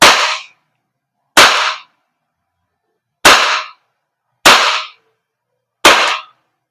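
Five sharp, loud shots from a KJWORKS KP-19 airsoft gas blowback pistol, each a crisp crack with a short decaying tail, spaced irregularly with silence between.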